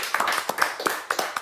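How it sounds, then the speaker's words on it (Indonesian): Scattered hand claps from a small studio audience at an esports talk show, a few distinct sharp claps in an uneven rhythm, close and fairly light. "Tepuk tangan dulu, Force Divine."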